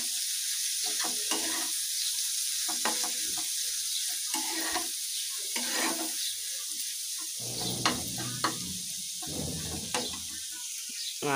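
A sauce mixture with soy sauce sizzles in a frying pan as a spoon stirs it, giving bursts of scraping and bubbling that come and go over a hissing bed, close and without voices.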